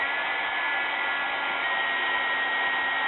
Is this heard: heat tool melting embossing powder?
yes